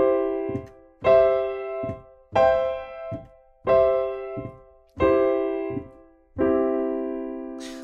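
Piano chords moving through root position and inversions, six sustained block chords struck at a steady, unhurried pace, each ringing and decaying before the next, with no talking.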